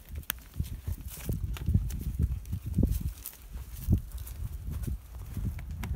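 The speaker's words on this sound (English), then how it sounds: "These are our wild Brahman cattle." Wild Brahman cattle moving near a fence being repaired, with irregular hoof thuds and shuffling footsteps on the ground at close range, plus some outdoor rustle and no clear talk.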